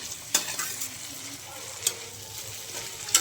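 Masala and tomatoes roasting in a pan for a dry-fruit pulao, a soft steady sizzle with a few sharp stirring clacks of a spoon against the pan, close up, with no talking.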